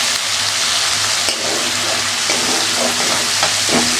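Thick spice paste for a papaya and potato curry sizzles and fries steadily in a pan, with soft stirring scrapes over a constant close hiss.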